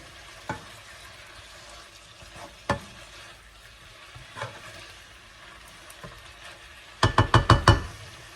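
Red chillies, spring onions and garlic cook in a pan with a soft, steady sizzle, broken by scattered knocks and stirring clatter and a quick burst of utensil scraping near the end.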